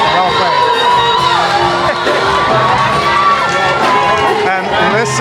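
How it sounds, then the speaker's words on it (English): A lively crowd at a live band's song in Mombasa, Kenya cheers, whoops and shouts loudly and continuously, with music and voices blending in a dense, close roar. "And listen to the crowd here."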